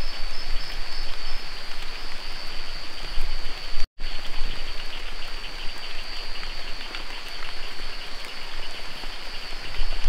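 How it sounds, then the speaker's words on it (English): Heavy rain pours steadily onto a rainforest canopy, a dense, continuous hiss of drops with a constant high insect or frog drone running through it, broken only by a brief gap. "it's been raining for about 2 hours"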